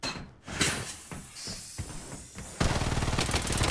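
Rapid gunfire from a sniper battle royale game, Blood Strike: several sharp shots in an uneven burst, then a dense sustained rattle of automatic fire close and loud.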